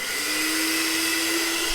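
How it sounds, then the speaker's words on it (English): An electric mixer whips 500 ml of cream with caster sugar in a bowl, giving a steady loud motor whir with a constant hum and no pauses, close up and without speech. "working on whipping our cream with our sugar"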